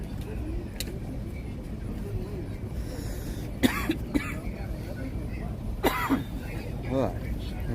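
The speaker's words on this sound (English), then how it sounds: "I'm getting a cough." Two short coughing fits from someone outdoors at a J6 political prisoners rally, each a couple of quick harsh coughs, heard over steady background chatter and passing traffic.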